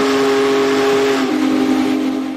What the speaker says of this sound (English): the steam locomotive whistle is really something that just moves you